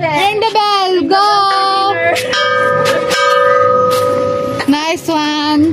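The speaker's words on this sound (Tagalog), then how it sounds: "Ring the bell. Ring the bell, go!" A bell rings repeatedly in a park, its bright tones clanging out in several strikes and hanging over the space. A voice and other voices can be heard around the ringing.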